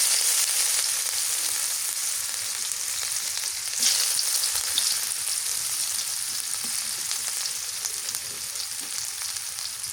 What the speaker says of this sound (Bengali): তো এই তেলের মধ্যে কালা জিরে দিয়ে দিলাম পেঁয়াজ দিয়ে দিলাম